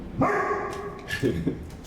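Dogs bark close by: a long, loud yelping bark comes first, then two short, sharp barks follow in quick succession.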